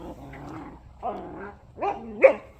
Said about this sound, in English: I bring the dogs out to the park to play.